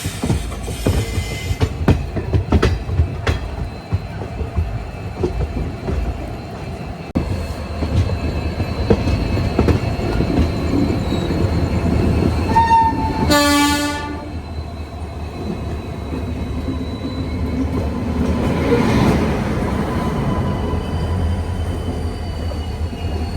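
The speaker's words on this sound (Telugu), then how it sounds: "షంటింగ్ లోకల్ వెళ్తున్నాయి." Shunting local trains pass along the railway near Visakhapatnam with continuous loud rumble and clickety-clack of wheels, occasional squeals, and a short horn blast midway.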